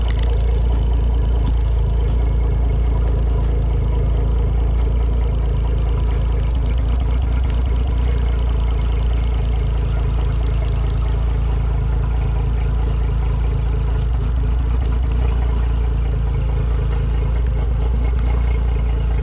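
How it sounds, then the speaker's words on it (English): A boat engine runs steadily during a cylinder drop test, one plug lead pulled to check for an RPM change; a loud, continuous mid-pitched drone with a low rumble and some mechanical clatter, no talk, throughout. "By unplugging one or the other, depending on what model engine you have, you can listen to the RPM."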